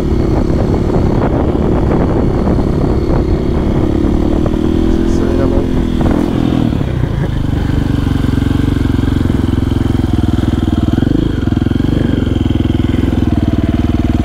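A KTM 690 motorcycle riding close by, its engine holding a loud steady drone with a surge and drop midway, as a rider talks over the noise.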